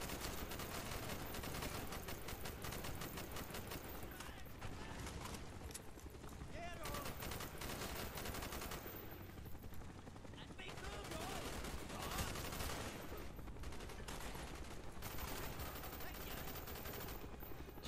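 Sustained, dense gunfire fills a firefight in Call of Duty: Black Ops during the Hue City defense, with rapid automatic bursts and overlapping shots running loud and nearly continuous throughout.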